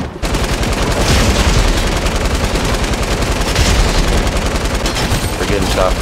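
Fortnite gunfire, a dense, loud, continuous burst of rapid automatic shots rattling without pause for several seconds, with no voices over it.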